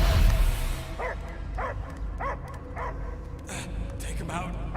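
Dog in the Guardians of the Galaxy video game giving a series of short, evenly spaced barks, moderately close, over a steady game background.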